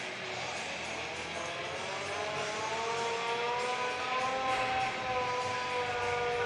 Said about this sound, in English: And the air raid siren sounds.